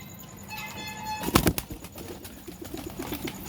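Pigeons at dusk give soft coos and a brief flurry of flapping wings, with a sharp burst of wingbeats in the middle before quieter rustling returns.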